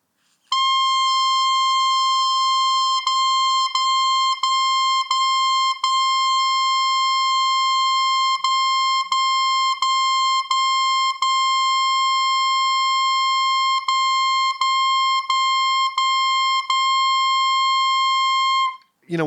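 A clarinet sustains a bright, steady tone, then breaks it into repeated short tongued notes in groups of four, each articulation a crisp interruption, playing alone for about eighteen seconds.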